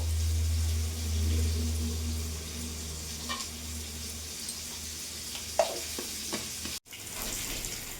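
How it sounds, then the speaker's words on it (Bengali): Fish, a Bata variety, frying in oil in a pan, a steady soft sizzle with a low hum beneath, a few faint clinks and scrapes, and a brief dropout near the end. "মাছগুলো ভাজা হয়ে গেছে লাল লাল করে ভেজে নিয়েছি"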